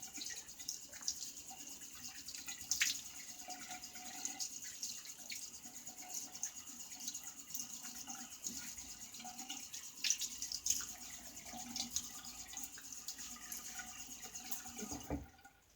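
Water runs from a tap for a rinse after a shave with an adjustable razor, a faint continuous trickle with small splashes and clinks throughout.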